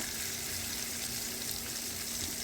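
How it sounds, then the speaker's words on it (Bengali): An egg fries in a pan on an infrared stove, giving a steady, dense sizzle that holds evenly throughout with no talking. "এখন ডিম ভেজে উঠিয়ে নেব।"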